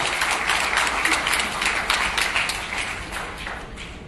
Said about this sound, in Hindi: मैं आह्वान करूंगा और आपकी जोरदार तालियों की अपेक्षा रखूंगा